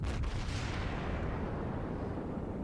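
A deep heavy boom of naval gunfire from a Pensacola cruiser in the World of Warships video game opens the clip, then fades into a low rumbling decay, fairly quiet and distant, with no speech.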